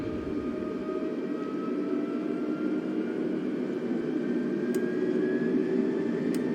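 Airbus A320 jet engines at takeoff thrust in Flight Simulator 2020, a steady loud roar with a rising whine that climbs through the clip, heard alone with no talk.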